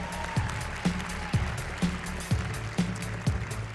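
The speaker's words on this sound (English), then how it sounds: "how about a round of applause for the president of the Miss Universe organization" An audience applauding a Miss Teen USA pageant host at a live show, steady clapping heard under a rhythmic thumping beat that repeats at regular intervals.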